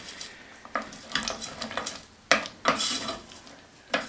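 Sugar-coated peanuts stirred in a very hot pan, scraping and rattling strokes with soft sizzling, irregular utensil knocks against the pan, close and moderately quiet.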